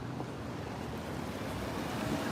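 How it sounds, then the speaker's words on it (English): Steady wind noise buffets the microphone outdoors in Mount Vernon, Baltimore, Maryland, a continuous low rumble and rush with no pauses. "Little too windy to be outside today."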